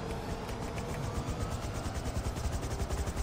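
A helicopter in Grand Theft Auto V on patrol over Mumbai, its rotor beating in a fast, even chop over a loud, steady engine drone, close and continuous.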